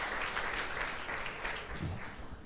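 Church congregation applauding during a Spanish-language service, a dense steady wash of clapping heard from a distance and fairly faint, with no speech over it.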